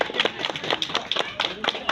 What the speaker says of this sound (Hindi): उनके लिए भी जोरदार ताली बजाएं